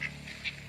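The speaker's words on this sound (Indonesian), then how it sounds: "Bebek sing melu." A duck gives two short, nasal quacks a little apart while being herded outdoors, fairly faint over a low background hum, with no speech.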